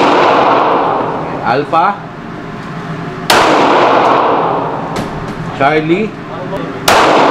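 Glock 45 MOS pistol shots at a target range: three sharp, loud reports a few seconds apart with echoing decay, while a person speaks briefly between them.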